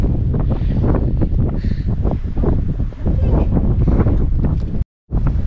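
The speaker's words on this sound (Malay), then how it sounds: "Dan tahulah betapa kuatnya angin." Strong wind buffeting a microphone outdoors near Mecca, loud continuous rumbling gusts that swell and ease, cutting out briefly near the end.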